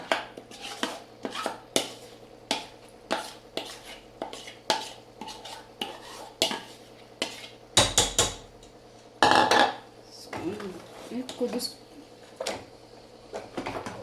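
Masala being stirred into egg curry in a pan with a metal spoon: a string of sharp scraping clinks and knocks against the pan in an irregular rhythm, close and clear, with a soft sizzle between strokes.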